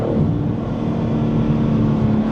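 A BMW M3 Competition Touring engine drones steadily while driving, a low, even rumble with no obvious revving, fairly loud and continuous without any voices.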